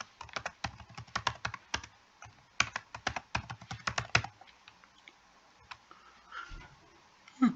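Someone enters a password on a computer keyboard while backing up a server database. Rapid, close key clicks come in two dense bursts, then thin out to a few scattered taps.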